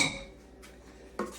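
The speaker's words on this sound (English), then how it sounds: "We'll give it a quick mix before we pour it into our pans here." A utensil clinks and scrapes against a bowl while peanut butter cake batter gets a quick mix, a faint clatter at the start and another short knock near the end.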